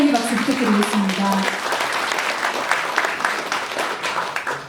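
A crowd claps to welcome a guest at a book launch, with warm, dense applause building right after a host's spoken introduction and carrying on steadily to the end.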